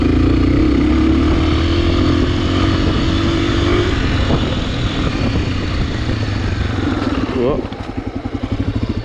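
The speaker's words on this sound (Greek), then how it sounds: "Καλύτερο μηχανάκι, ρε." A Honda AX1 motorcycle rides along a rough road, its engine droning steadily close up with a rising whine midway and a rougher, pulsing note near the end, voices talking over it at times.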